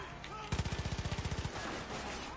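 Automatic gunfire in the video game Far Cry 5 rattles out as a fast burst of about fifteen evenly spaced shots, loud and close, then stops abruptly.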